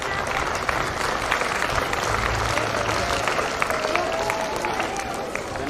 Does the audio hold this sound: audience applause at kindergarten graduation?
yes